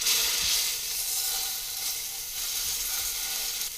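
Salmon fillets frying skin-side down in a single pan alongside an asparagus stir fry, cooked in a camper van; a loud, steady, close-up sizzle with a bright hiss runs throughout, with no talking.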